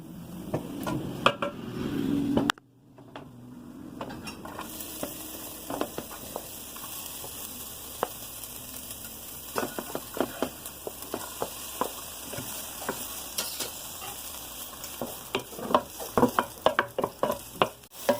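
Onions fry in a pan for sarson da saag, making a steady close sizzle with frequent stirring scrapes and clinks. A brief quieter break comes early, then the sizzle grows busier toward the end.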